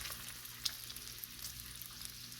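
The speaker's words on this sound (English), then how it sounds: "as soon as I flipped it to the other side, it started to increase in sizzle" Bacon strips frying on a flat griddle, a steady, soft, bright sizzle with a few tiny pops, close and continuous, with no voices.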